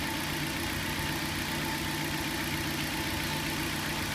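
Car engine idling steadily during a fuel trim and oxygen sensor check, a constant mid-pitched hum with faint knocking texture, close and alone with no talk.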